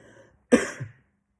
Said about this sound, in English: when I'm coughing